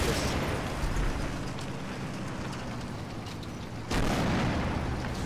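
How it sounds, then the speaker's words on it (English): Mortar rounds land on a building roof in the Combat Mission video game, a dense, continuous rumble of explosions and debris with a louder fresh impact near the end. "that is mortar fire because it's landing on the roof"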